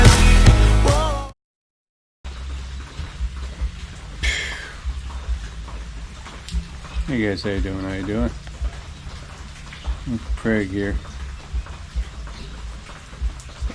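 Steady rain falls outdoors at a front gate work site, a continuous hiss and patter under someone talking close by, after a brief burst of music and a moment of silence at the start.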